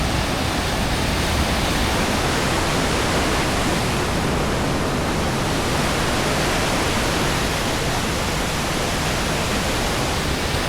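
Water rushes steadily over rock at a Scottish Highland waterfall, a dense, continuous roar that fills the whole stretch, close and loud, with no voices.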